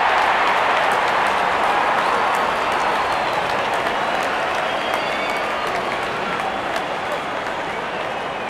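Cricket crowd at an India vs England T20 World Cup semi-final cheering and applauding as the openers walk out, a dense, steady roar of clapping and voices filling the stadium throughout.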